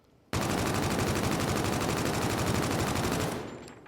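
A KBAR Invective rifle in a video game fires one sustained, loud, rapid automatic burst of about three seconds, then cuts off into a short fading tail.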